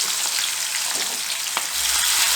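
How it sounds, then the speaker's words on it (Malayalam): Peeled prawns, about two kilos in one batch, deep-frying in hot oil in a frying pan for prawn pickle: a loud, steady hiss with scattered crackles and no voices. "നമുക്കിത് 2 ബാച്ചായിട്ട് വറുത്തെടുക്കാൻ പറ്റില്ല"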